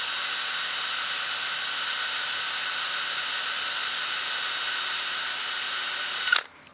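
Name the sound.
power sanding the rim of a wood platter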